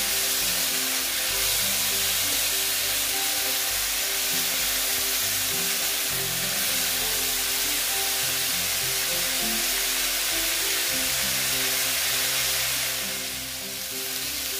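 Young jackfruit and potato pieces fry in a pan with a steady, close sizzle that runs unbroken throughout, with occasional soft stirring underneath and no voices.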